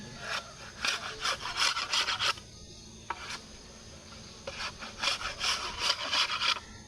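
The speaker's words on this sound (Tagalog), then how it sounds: "So ang next step, tatanggalin naman yung talas ng kawayan sa gilid." Sharp edges of bamboo being scraped off with a blade for a chicken-shelter teepee, heard as bursts of rasping strokes in two rhythmic clusters with a pause between, close and fairly loud.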